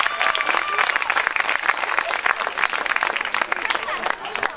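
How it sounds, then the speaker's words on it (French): An audience at a youth sports trophy event applauds loudly and steadily, dense clapping from many hands filling the space with a few voices mixed in. "Bravo, on applaudit très fort."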